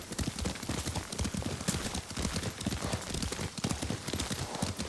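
Horse hooves clip-clop at a steady riding pace in the game Ghost of Tsushima, an even run of close, quiet hoofbeats.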